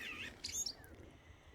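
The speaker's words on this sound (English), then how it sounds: "And can you hear the blackbird?" A blackbird sings from a May hedgerow, a brief, fairly faint phrase of high whistled and chirping notes over quiet outdoor background.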